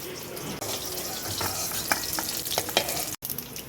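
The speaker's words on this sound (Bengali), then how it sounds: "তেজপাতা ফোড়ন দিলাম" Bay leaves tempering in hot oil give a loud, continuous sizzle and crackle, with quick stirring scrapes. The sound is close and dense, with one sharp cut near the end.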